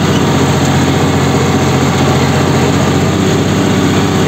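A John Deere 5310 tractor engine runs steadily at close range on a sand-covered road, a loud, even low drone with no break and no voices.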